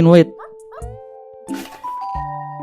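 A cat meows in a pet shop video game, with short tonal meow-like game sounds and a soft jingle, while a person talks over them.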